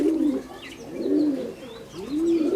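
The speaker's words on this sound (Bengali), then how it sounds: "এটা মাদি কবুতর" A female Madrasi Kalanka pigeon coos up close, three rising-and-falling throaty swells in a slow rhythm, loud and clear with faint chirps in the background.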